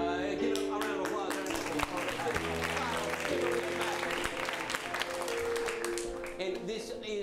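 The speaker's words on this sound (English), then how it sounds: "Give them a round of applause." Audience applause for improv comedy performers at a live comedy show, steady dense clapping filling the room throughout, loud and sustained with crowd energy, no talk over it.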